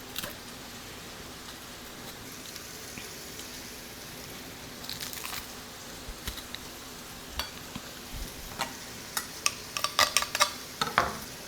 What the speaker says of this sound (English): Just breaking it up with my little ground beef tool here.